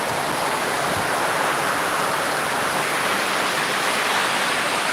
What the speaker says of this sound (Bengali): মসজিদের সিঁড়ি দিয়ে পানি অনেক পড়ছে